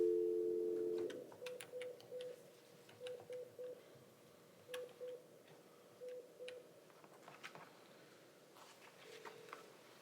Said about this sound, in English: let me try and make a phone call to Karen